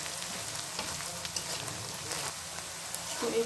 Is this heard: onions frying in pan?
yes